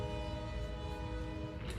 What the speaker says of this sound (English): There's our train.